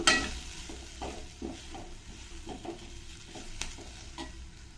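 A spatula stirs vegetable palya with grated coconut in a pan, scraping in soft irregular strokes over a faint, low sizzle, close and quiet.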